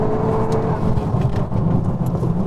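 A Honda Civic Type R pulls hard on a race track lap, its engine note droning loud and steady as a continuous roar with faint higher whines above, no talk.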